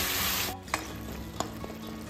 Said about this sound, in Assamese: মাছৰ মূৰটো কচুখিনিৰ লগত মাছৰ হাড়খিনিও একদম ল' ফ্লেমত 5 মিনিটমান ভাজি লওঁ